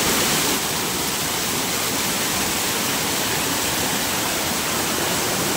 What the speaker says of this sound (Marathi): ते बघा, वरती कशा प्रकारे पाणी येत आहे.